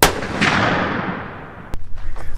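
A single loud rifle shot fired outdoors while sighting in a rifle, a sharp crack followed by a long decaying rumble, then a brief thump and faint rustling.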